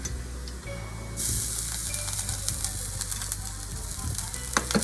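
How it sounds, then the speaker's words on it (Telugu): Ginger hits hot olive oil in a pan with a sudden jump into a loud, steady sizzle, and scraping stir strokes and small crackles continue over it throughout. "తర్వాత ఇప్పుడు నేను జింజర్ వేసేసుకుంటున్నాను."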